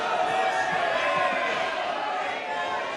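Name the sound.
clapping in parliament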